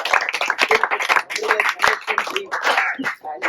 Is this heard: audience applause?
yes